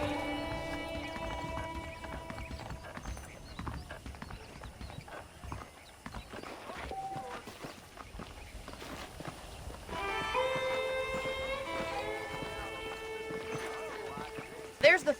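Horse hooves clip-clop steadily in Red Dead Redemption, a continuous walking rhythm running under game music and spoken dialogue throughout.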